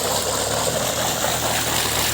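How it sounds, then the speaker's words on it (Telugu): A borewell motor on a farm pumping water gives a steady, loud rush of gushing water over a constant low motor hum, heard close and continuous. "చూడు మరి ఎట్లా స్పీడ్ వస్తుంది చూడు బాయ్ మోటర్"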